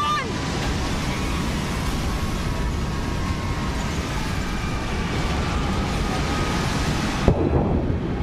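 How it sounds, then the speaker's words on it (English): Storm waves smash against a building by the sea in a continuous heavy roar with deep rumbling, building to a louder thudding impact near the end before the sound cuts off abruptly. "the whole building shakes as the waves smash into it"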